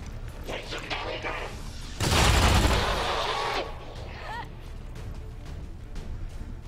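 A loud burst of automatic gunfire lasting about a second and a half in XCOM 2: Long War 2, standing out from quieter game sounds and someone talking before and after.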